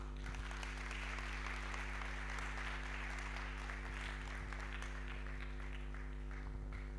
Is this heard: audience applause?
yes